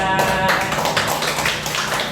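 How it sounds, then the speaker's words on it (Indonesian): Audience clapping at a school dissemination session on positive culture, a dense steady wash of many hands filling the whole stretch, loud and close, with a voice briefly at the start. "kita kasih tepuk tangan semuanya"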